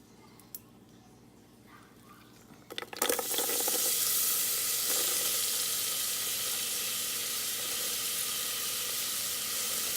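Garlic, ginger and onion hit hot oil with whole spices in an Instant Pot, a few small clicks giving way to a sudden, loud, steady broadband sizzle that holds on close up for several seconds.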